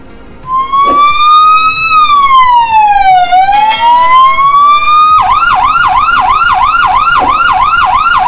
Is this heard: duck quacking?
no